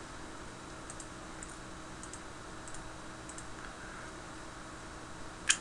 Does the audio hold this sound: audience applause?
no